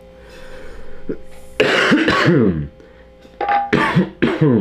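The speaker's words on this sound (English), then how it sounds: "just a cough, just a dry cough" Dry cough from a man with no fever, several harsh, loud, close coughing bursts and throat clearing in irregular clusters with short breathy pauses between them.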